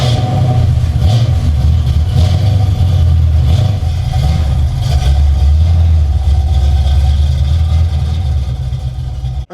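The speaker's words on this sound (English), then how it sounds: "let's take it for a test drive and see how it handles." A G-body car with newly installed Bilstein shocks out on a test drive, steady low engine drone and road rumble heard from inside the car, with mild swells in engine note throughout and no speech.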